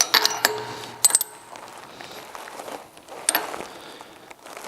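Thin metal spacer rings lifted off a woodworking shaper spindle give a few sharp metallic clicks and light clinks in bursts, close and fairly quiet, with soft handling noise between them.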